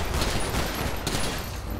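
Rapid bursts of gunfire in GTA 5 crackle in a dense, continuous volley, loud and close, with no voices.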